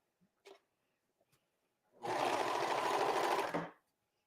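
A sewing machine stitches around a fabric edge at a short stitch length, a steady close whirring run of about a second and a half after a few faint clicks of handling.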